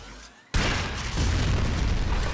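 Stahlta weapon explosion in Warframe, a sudden loud boom that erupts after a brief lull and rumbles on as a sustained, heavy roar.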